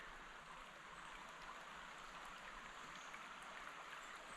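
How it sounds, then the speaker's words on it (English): A forest creek runs in a steady, faint wash of flowing water, unbroken and even throughout, with no voices. "All you can hear are birds, the water running."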